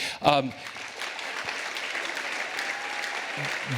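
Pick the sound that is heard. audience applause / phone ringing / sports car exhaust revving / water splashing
audience applause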